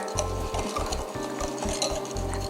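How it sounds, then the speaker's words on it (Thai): A spoon stirs brown sugar into a teriyaki-style sauce of ginger and soy, giving repeated close scraping and tapping strokes in a steady rhythm against the bowl. A faint sizzle runs underneath, with no talking. "การใส่น้ำตาลทรายแดงลงไปค่ะ คนให้เข้ากันนะคะ"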